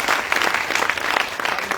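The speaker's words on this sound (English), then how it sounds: "Una clap for first lady." A crowd claps for the First Lady at a public gathering in Sierra Leone, a continuous, fairly loud burst of applause from many people with no voices over it.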